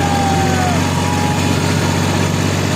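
Tractor engine running steadily during the Shegaon Gajanan Maharaj palkhi procession, a loud, continuous low chugging drone heard close up without pause.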